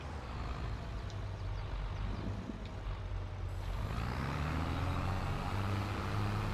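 A forage harvester cutting alfalfa into hay in Farming Simulator 22 gives a steady, droning engine rumble with mechanical whine, continuous and moderately loud, intensifying slightly partway through.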